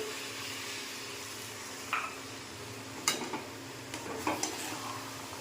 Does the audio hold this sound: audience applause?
no